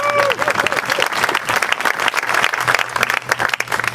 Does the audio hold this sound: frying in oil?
no